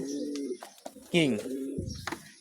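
A male King breed pigeon coos close by in a few soft, throaty rolling calls, with brief pauses and faint background noise.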